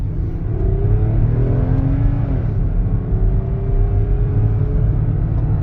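A 2008-2013 Toyota Highlander with high miles, 270 horsepower and a 5-speed automatic, pulls out and accelerates on the road; a steady engine drone climbs in pitch through the gears beneath constant road rumble, heard from inside the cabin.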